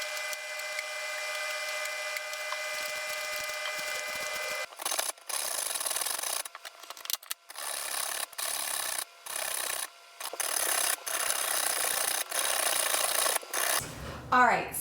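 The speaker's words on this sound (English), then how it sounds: "then I'm going to grate them on a box grater" Beets and carrots are scraped across a box grater in repeated rough, rasping strokes. The bursts come close and loud, broken by short pauses, after a few seconds of quiet hum.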